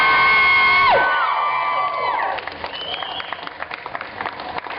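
A rally crowd at a Slutwalk protest in Denver cheers, whoops and applauds loudly as one sustained roar that slowly thins into scattered clapping and shouts.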